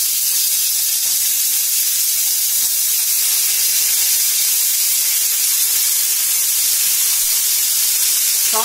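Chopped onions frying in hot oil in a pan, a loud, close, continuous hissing sizzle that stays steady throughout with only faint stirring touches and no voices.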